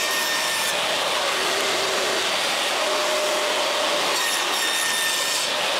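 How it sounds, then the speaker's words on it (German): A board is cut to size for the shelf of a table, giving a steady, continuous sawing rasp close by that stays loud for the whole stretch with no pauses and no talk. "jetzt noch die Platte zurechtschneiden"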